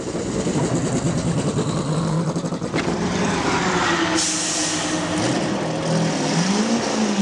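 A GT touring race car pulls away from the pits during a three-hour endurance race at Dijon, its engine revving and rising in pitch amid loud, busy circuit noise.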